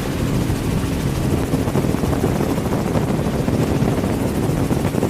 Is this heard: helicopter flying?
yes